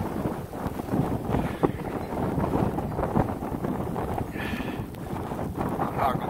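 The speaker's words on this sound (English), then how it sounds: "That wind is blowing something crazy." Strong wind gusting outdoors over a snowy driveway, a steady broadband roar buffeting the microphone with brief louder gusts throughout.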